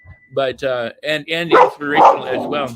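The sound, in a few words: dogs barking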